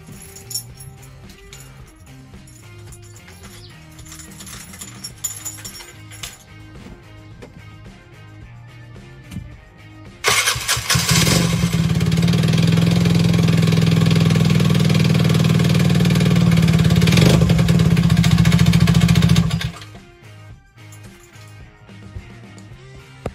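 A Gilera DNA 125cc motorcycle, fixed with a new starter Bendix, ticks and clatters quietly before its engine catches and roars into a loud, close, steady idle for several seconds, then cuts off.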